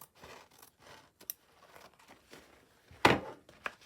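Scissors snip through a cardboard cutlery box in a quiet room, with several soft cuts and rustles and then one louder, sharper crunching cut near the end.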